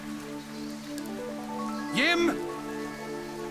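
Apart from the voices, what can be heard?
rain downpour in video game Fantasian Neo Dimension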